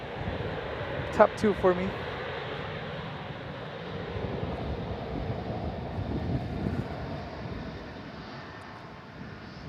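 An ITA Airways airliner passes at San Francisco International Airport, a moderate engine rumble that builds gradually and fades, heard under brief speech near the start.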